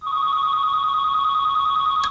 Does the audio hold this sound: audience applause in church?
no